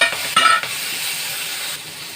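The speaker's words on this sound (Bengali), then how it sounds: "চিংড়ি মাছটা ভাজতে দেবো।" Prawns rubbed with salt and turmeric frying in hot oil in a kadai, a loud steady sizzle and hiss with a brief sharper spatter near the start.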